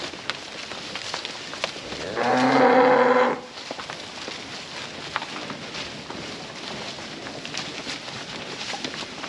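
A single cow lets out a loud, close moo lasting about a second near a barn, with faint shuffling and ambient outdoor noise before and after.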